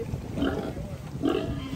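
A pig grunts twice, close by, with short rough snorts about a second apart over a low background rumble, while crossing the River Volta in Ghana.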